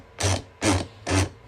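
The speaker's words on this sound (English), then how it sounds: "we're going to use my Jason's Works auto punch tool. Just going to tighten that down." A Jason's Works auto punch tool being tightened down on a 1974 quarter gives three short grinding, rasping turns, each about a quarter second long with brief pauses between, close up and alone.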